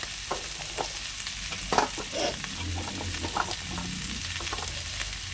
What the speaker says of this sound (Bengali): এবার এটাকে এর সঙ্গে ভালো করে ভেজে কষিয়ে নেব